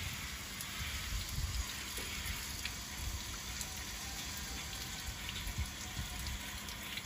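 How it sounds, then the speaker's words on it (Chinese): Water poured onto rooftop succulents in dry, sunken soil, a steady close gushing splash that runs without pause at an even level. "真的浇水很爽啊"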